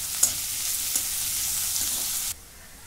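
Slit mild green chillies sizzle and crackle in hot oil in a pan for a bitter gourd curry, a steady close frying hiss with a couple of stirring clicks before the sound suddenly drops away.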